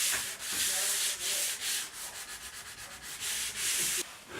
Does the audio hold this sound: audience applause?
no